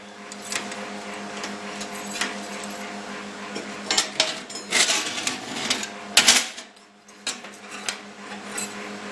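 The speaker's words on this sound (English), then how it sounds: "I apologize for the noisy fan on the Mighty ESOB" The cooling fan of a Mighty ESAB welder hums steadily beneath intermittent metallic clinks and clattering nearby.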